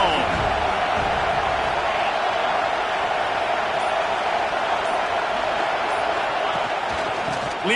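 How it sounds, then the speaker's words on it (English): A stadium crowd in an NCAA college football video game roars as a steady, dense wash of noise throughout, with a voice talking over it. "This crowd ready to make its presence known."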